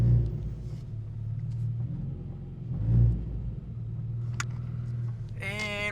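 A ZN6 car engine idles with a steady low rumble that swells briefly midway, ending with a short, higher mechanical whine.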